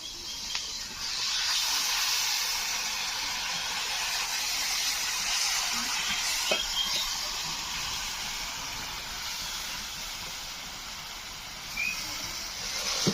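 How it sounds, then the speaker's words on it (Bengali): Garlic and ginger paste masala with chili powder and a little water sizzles and hisses steadily in a pan for chicken curry, a continuous loud fry with no voices. "রসুন বাটা, আদা বাটা, অল্প পরিমাণে জল দিয়ে মশলাটা কষিয়ে নেব।"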